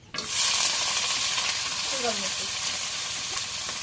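Chopped raw onion and dried fish hit hot mustard oil with a sudden loud sizzle that holds steady, with brief stirring scrapes partway through.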